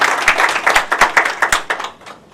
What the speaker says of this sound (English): a huge round of applause for Archana here.